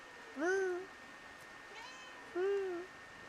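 Cat in the game Days Gone meows twice, clear drawn-out calls separated by a pause with a faint chirp between, fairly close over a quiet background; someone talks nearby.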